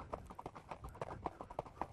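A young, recently started horse being ridden clip-clops at a steady walk, its hooves striking in an even rhythm of about eight sharp, moderately close beats with no talking.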